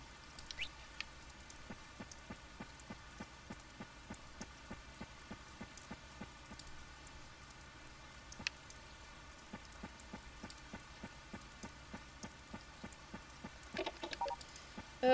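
Rain in the Harvest Moon: Save the Homeland video game, a light, regular patter of ticking drops repeating steadily over a quiet tonal background, with a slightly busier burst near the end.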